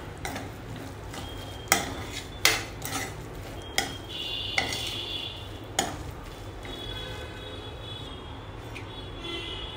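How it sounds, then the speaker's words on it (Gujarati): A spoon stirs a dry spice mixture with chili flakes in a bowl for a sandwich filling, with irregular scraping clinks and a few sharper knocks against the bowl, moderately close over low kitchen hum. "બધું જ સરસ રીતે મિક્સ કરી લેવાનું છે."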